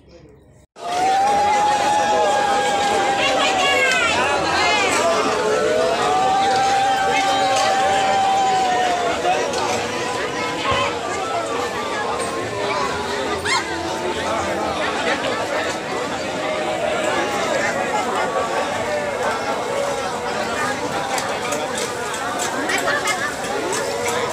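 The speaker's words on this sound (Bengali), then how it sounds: "আপনারা তো দেখতেই পারলেন যে ঘাটে কত মানুষের ভিড়, মানুষের কোলাহল" Dense crowd hubbub of many people gathered at a river ghat during tarpan rites, a continuous loud babble of overlapping voices with rising calls and shouts throughout.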